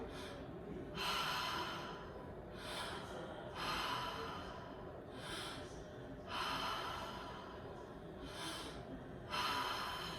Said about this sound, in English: So let's open the mouth and relax the jaw. And we're gonna inhale.